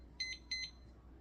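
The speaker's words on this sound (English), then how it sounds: "I don't know how to set my oven timer, so I just use a little standalone timer." A small standalone kitchen timer gives two short electronic beeps in quick succession, each a bright doubled chirp, fairly faint in a quiet kitchen.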